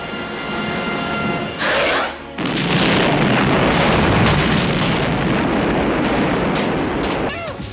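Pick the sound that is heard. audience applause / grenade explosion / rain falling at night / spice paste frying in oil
grenade explosion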